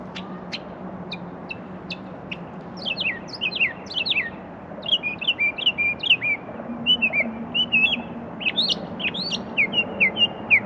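Birds chirp and call back and forth outdoors in a city in Delaware, a steady stream of short high tweets and whistles, some close and some farther off, over a low background hum, with no talking.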